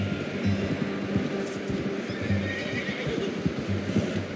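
A horse in the video game Red Dead Redemption 2 neighs and whinnies amid clip-clopping hooves, with a steady low rumble of background ambience throughout.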